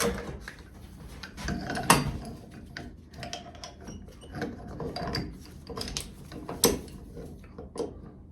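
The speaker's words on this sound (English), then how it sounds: "Get ready to break the bead on the back side of the tire." Bead breaker working the back bead of a small lawn mower tire on its rim: a run of mechanical clunks, creaks and ratcheting clicks, close and fairly quiet, with sharper knocks near the start and middle.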